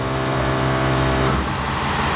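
A truck engine idles with a steady low rumble and hum, loud and close, continuing throughout without voices.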